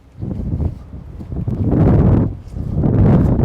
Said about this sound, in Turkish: Muhtemelen siz de belki duyuyorsunuz rüzgar sesini